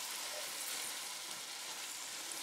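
Chicken karahi frying over a high flame, giving a quiet, even, unbroken sizzle that holds steady throughout.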